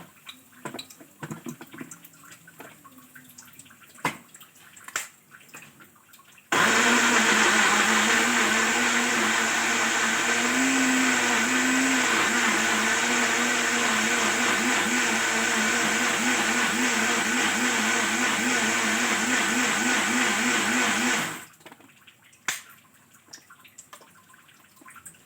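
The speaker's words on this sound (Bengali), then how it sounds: "ততক্ষণে আমি আদা, পেঁয়াজ, রসুনের পেস্টটা আর টমেটো এটা আমি মিক্সিতে ঘুরিয়ে নিচ্ছি।" A mixer grinder blends ginger, onion, garlic and tomato into a paste, running as a loud continuous whirring drone for about fifteen seconds that starts and stops abruptly, with quieter kitchen sounds before and after.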